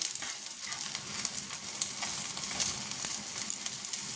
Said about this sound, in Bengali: রাতে ডিনারের জন্য ছেলের জন্য করছি অমলেট